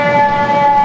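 A loud, steady siren tone with strong harmonic lines, heard close and alone for under a second with no talking.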